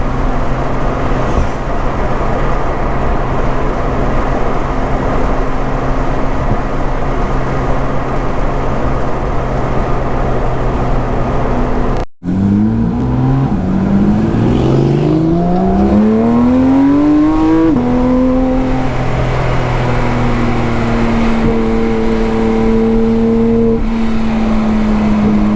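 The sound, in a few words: Porsche GT3 RS with MBRP exhaust revving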